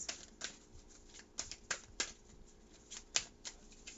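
Oracle cards are shuffled and pulled close up in quiet surroundings, giving a series of sharp, irregular riffling snaps and soft card slides.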